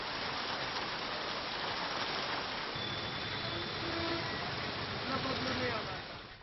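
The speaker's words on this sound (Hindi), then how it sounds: "तेलंगाना पर दक्षिण पश्चिम मानसून के असर के कारण इतनी बारिश यहां पर देखी जा रही है।" Heavy monsoon rain falls in Telangana as a steady, dense hiss of drops on surfaces, unbroken throughout, with faint traces of talk underneath.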